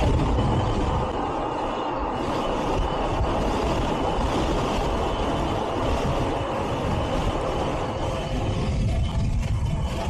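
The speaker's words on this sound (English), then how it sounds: "this wind's getting really strong right here" Strong wind roars constantly against the microphone while riding a Power Goat, a loud, dense, unbroken rush and buffet lasting the whole stretch.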